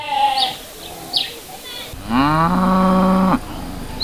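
A cow lets out one long, loud, drawn-out moo nearby, after a few faint chirps and quiet background noise.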